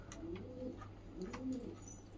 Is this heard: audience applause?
no